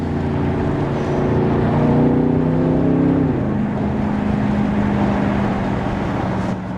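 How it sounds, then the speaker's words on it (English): Turbocharged engine of a 2025 Aston Martin Vantage sports car pulls hard under acceleration, a loud, close, steady roar whose pitch climbs and then drops at a shift before building again, with no talking. "Those turbos, when they kick in,"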